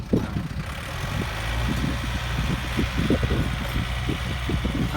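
A stock, unmodified Yanmar 51 combine harvester engine fitted with a custom stainless steel exhaust runs steadily close by, giving a loud, continuous low rumble with a choppy, pulsing exhaust note and no talking.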